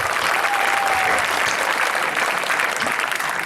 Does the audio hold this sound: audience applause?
yes